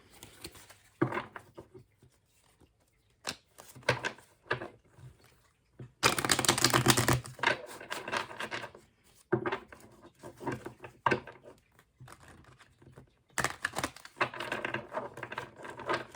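Tarot cards are shuffled and riffled in several bursts, crisp papery flutters and taps separated by short quiet pauses.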